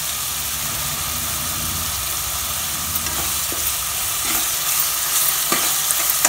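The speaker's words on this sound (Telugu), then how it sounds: "అల్లం వెల్లుల్లి పేస్ట్ కూడా కొంచెం పచ్చివాసన చేసిన వరకు ఫ్రై చేయాలి" Ginger garlic paste fries in a pan with a dense, continuous hiss, and a few sharp scrapes and ticks of stirring come through near the end. It is close and steady, with no voices.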